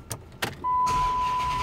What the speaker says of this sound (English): Got the little things like the windows pop up real nice